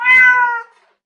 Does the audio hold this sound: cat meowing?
yes